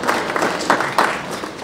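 A small round of applause from the audience at a regional Poetry Out Loud poetry recitation finals, steady hand clapping filling the room for under two seconds with no talk over it.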